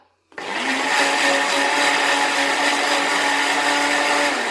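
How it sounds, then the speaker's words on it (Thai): A kitchen blender whirs steadily as it purées pandan leaves with a little water, a loud, even motor drone that starts abruptly and runs unbroken to the end with no talking. "แล้วก็กดปั่นครับ"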